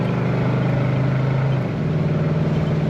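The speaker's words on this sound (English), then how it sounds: "And good throttle response as well." A 1971 Pontiac LeMans Sport convertible's engine rumbles up close, then the throttle is blipped and the note lifts in pitch before settling again.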